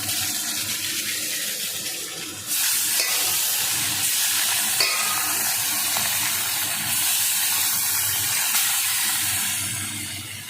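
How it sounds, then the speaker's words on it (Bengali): Fish pieces frying in a pan, both sides at once, make a loud, steady hissing sizzle that jumps louder partway through and holds without speech. "তো দেখো দুপাশে কিন্তু মাছ ভাজতে দিয়ে দিয়েছি"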